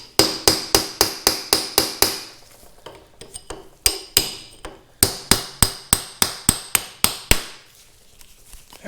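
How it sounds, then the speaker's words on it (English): Sharp metallic hammer strikes on a flat punch, driving parts out of a vehicle's front pedestal, ring out in quick rhythmic bursts, two runs of rapid taps separated by a few slower, scattered hits. "if you're careful just with a hammer and a flat punch, you can get them out"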